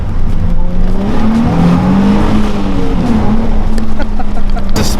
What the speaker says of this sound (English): I'll do a first gear pull because it's easy.